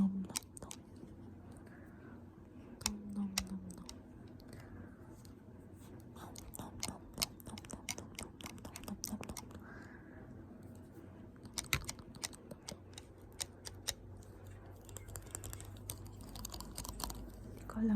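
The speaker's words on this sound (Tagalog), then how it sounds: "Itong hair claw." Plastic hair claw tapped and clicked close up in a soft-spoken ASMR session, giving a steady run of light, crisp clicks and taps that persist through the whole stretch over quiet room noise.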